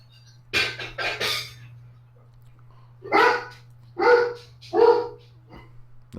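Dog barking in several bursts, first a quick double bark then three louder, evenly spaced barks, fairly close over a steady low hum with no talk.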